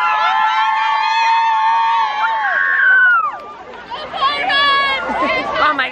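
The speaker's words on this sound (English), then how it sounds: "Should I show the crowd?" Crowd at a high school football game, with overlapping voices, shouts and cheering blending into a loud, lively babble that dips briefly midway before building again.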